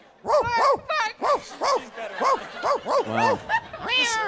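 A person imitates a dog barking on a live radio show, giving about a dozen loud, close yelping barks in quick rhythmic succession.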